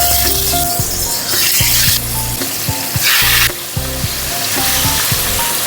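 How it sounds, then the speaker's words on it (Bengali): Hilsa fish pieces fry in a generous amount of hot oil, giving a loud, steady sizzle with occasional stirring clinks and pauses throughout. "আর বাদ বাকি যেই মাছগুলো আছে এগুলো এইভাবে ভেজে নিই।"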